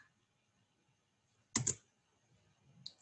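Keys on a computer keyboard are pressed for a Ctrl S save: one close, crisp cluster of clicks, then a fainter single keystroke a moment later, against near silence.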